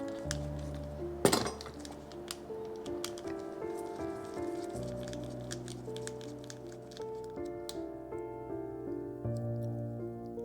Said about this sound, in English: Now we can turn this, pull that off, and remove this screw to break the line roller down.